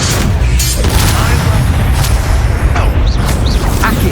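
Incendio fire spell blasts in the action game Hogwarts Legacy during a duel, loud booming bursts and crackling magical whooshes layered in a dense, continuous battle din.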